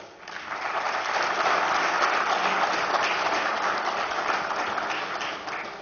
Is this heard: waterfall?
no